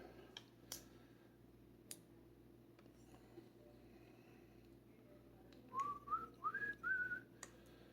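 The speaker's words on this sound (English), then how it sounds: "I've been whistling that ever since" A few short whistled notes of "Mack the Knife" rising in pitch near the end, clear over a low steady hum, after some scattered clicks.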